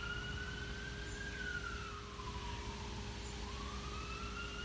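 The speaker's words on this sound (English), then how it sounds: "I hear the sirens" A faint emergency siren wails in the distance, its tone sweeping up and down over a low steady hum.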